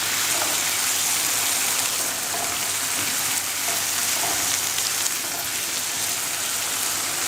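Boiled chickpeas and their cooking water go into a frying masala and get mixed, giving a steady, loud, dense sizzle and bubbling hiss that runs unbroken throughout with faint stirring beneath.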